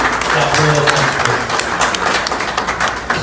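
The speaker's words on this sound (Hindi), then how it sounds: "आप लोग सब अपने लिए बहुत सारी तालियां बजा रहे हैं" Audience at a flood relief fundraiser in Canada clapping together, a dense burst of applause with a voice briefly over it.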